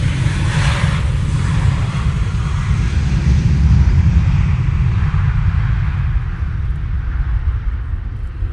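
An IndiGo airliner at Manchester Airport roars past close by, a loud broad jet rumble that swells and then slowly fades as the aircraft moves away. No voices.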